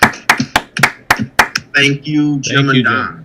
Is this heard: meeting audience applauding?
yes